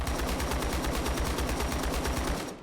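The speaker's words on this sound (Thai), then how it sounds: "ได้เสียงปืนปองแปะปองแปะเนี่ย" Rapid, steady machine-gun fire in the Black Hawk Down video game, a long, evenly spaced burst of close, loud shots that stops near the end.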